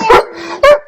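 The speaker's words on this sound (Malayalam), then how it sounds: "വഴിയെ കൂടെ ഇഷ്ടംപോലെ പട്ടികൾ പോകുന്നു" A dog lets out two sharp, loud barks close by, each a short yelping burst with a brief whiny tone between them.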